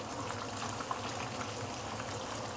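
Snapper cutlet sizzling in reused frying oil, a steady close bubbling hiss with no gaps and no voices.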